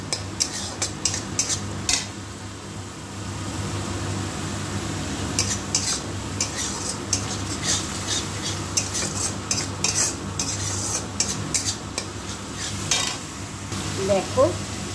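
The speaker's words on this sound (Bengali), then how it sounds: "ভালো করে মশলাটা কষিয়ে নিতে হবে।" Masala spices being sautéed with tomato in a pan, with steady soft sizzling and frequent scraping, clinking stirs of a spatula against the pan, close by.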